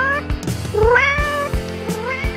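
Several cat meows, close and clear, with rising-falling pitch, one long drawn-out cry in the middle and shorter ones around it.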